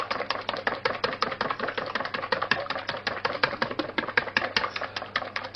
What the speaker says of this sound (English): I'm going to give that a really good whisk up